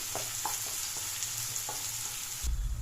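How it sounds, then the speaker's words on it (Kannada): Onions fry softly in a pan on low flame, a steady close sizzle with a few light clicks of stirring and a low thump near the end. "ಲೋ ಫ್ಲೇಮಲ್ಲಿ ಇಟ್ಕೊಂಡು ಈರುಳ್ಳಿ ಸಾಫ್ಟ್ ಆಗೋದು ಫ್ರೈ ಮಾಡಿಕೊಡಿ"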